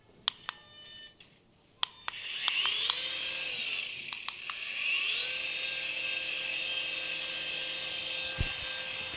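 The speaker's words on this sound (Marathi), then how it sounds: "हे हेलिकॉप्टर आहे ना वरती तर काही उडत नाहीये" Toy helicopter blades spinning on the ground without lifting off, a high whirring buzz that starts after a few clicks, rises, then settles into a steady close whine.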